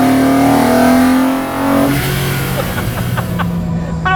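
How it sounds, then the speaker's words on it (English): A BMW Z8 Coupe engine revs loudly up and down nearby, a sustained mechanical roar with rising pitch, no voices. "Just going to let the engine have a go again."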